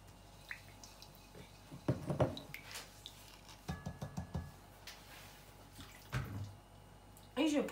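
Water is splashed onto ground spices, including ginger, and stirred for Moroccan chicken with olives. Quiet, close, intermittent wet squelches and drips come in short bursts.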